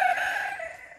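A free-range chicken lets out a single drawn-out cluck, close and fairly faint, with nothing else around it.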